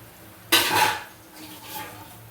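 Poori masala is stirred in a cooking pan, a single close scraping clatter of spoon against metal that trails off, followed by a fainter second scrape.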